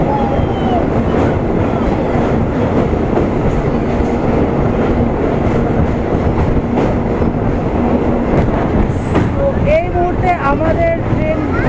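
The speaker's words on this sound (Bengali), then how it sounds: "আমাদের ট্রেন ক্রস করছে ময়ূরাক্ষী নদীর ওপর কোলাঘাট" A Howrah–Digha local train crosses a river bridge at Kolaghat, its wheels rumbling and clattering in a loud, continuous roll with rhythmic knocks, heard from inside the carriage, with a few squealing tones near the end.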